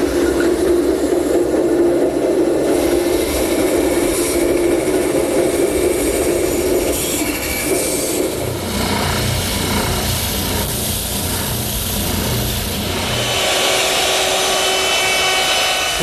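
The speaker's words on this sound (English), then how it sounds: "We'll do that at the bandsaw." A bandsaw cuts the rounded end of a wooden ladder spreader, giving a steady machine hum and whine with shifting cutting noise as the blade works through the wood, close by and without talk.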